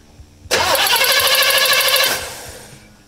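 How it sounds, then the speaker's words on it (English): A car engine with a Go Spark CDI box fitted to a points distributor cranks briefly and catches at once, revving up loud and close for about a second and a half before settling and fading. "with the CDI, it starts, it fires up, it's got all the power it needs"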